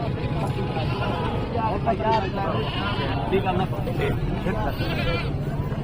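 Goats bleating at a busy livestock market amid a crowd, repeated wavering calls heard under close conversation and steady background hubbub.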